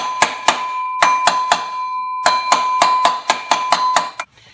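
A metal hammer strikes the front cover of a Ford 5.4L 3-valve engine during timing chain replacement. Sharp ringing metallic blows land in quick bursts of two or three, close and loud, with tonal ring between hits.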